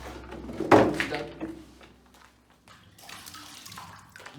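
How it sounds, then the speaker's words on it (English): Water gushes out of a household storage tank at a home in Jamaica, a loud burst of flow near the start that eases into a steady, quieter splashing rush with no talk over it. "Here goes the water right there."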